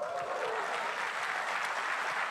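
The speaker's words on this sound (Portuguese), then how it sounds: "vamos aplaudir o Senhor" A church congregation applauds during a livestreamed service, a steady wash of clapping from a large crowd that holds at an even level throughout, with a voice faintly audible at the start.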